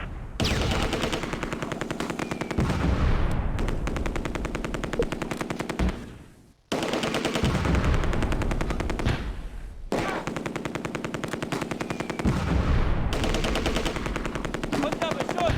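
Machine gun fire in the wartime strategy game Close Combat: A Bridge Too Far, with long dense rattling bursts separated by short pauses, loud and close, with echoing gunfire behind.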